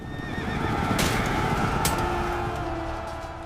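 Horses neigh and whinny amid a dense battlefield din of many hooves and marching feet, with shrill high cries rising twice over a constant loud rumble.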